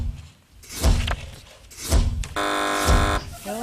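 A loud electronic quiz show buzzer blares for about a second after a few dull thumps and knocks, with no speech.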